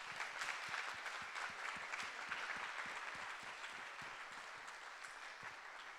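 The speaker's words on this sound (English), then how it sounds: "I think we should all give them a big round of applause for all their hard work" Steady audience applause following a summer pitch competition with fourteen team presentations, a dense even patter of many hands clapping throughout at moderate distance, easing slightly toward the end.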